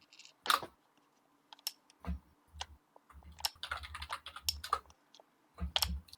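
Irregular bursts of key clicks on a computer keyboard during a tabletop role-playing game session, sharp close taps in uneven clusters with quiet gaps between, no talk over them.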